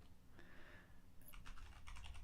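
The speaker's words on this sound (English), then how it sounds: "You're typing America." Fingers typing on a computer keyboard, a quiet patter of keystrokes that thickens into quicker bursts of clicks toward the end, close by, with no talking over it.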